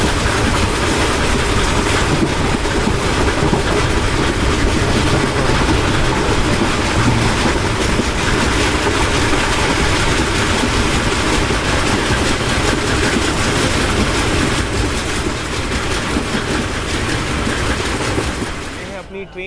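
Train running through the Thar desert on the route to Pakistan, a loud continuous rattling clatter of wheels and cars that holds steady throughout before easing slightly at the end, with talk mixed in.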